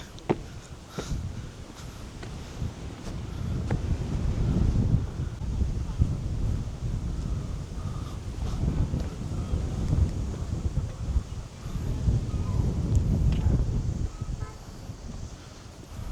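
Strong gusty wind buffeting the microphone high on Lohagad Fort in Maharashtra, a loud low roar that swells and fades throughout, with no clear speech.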